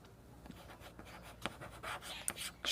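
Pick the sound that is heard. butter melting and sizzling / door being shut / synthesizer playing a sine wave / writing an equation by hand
writing an equation by hand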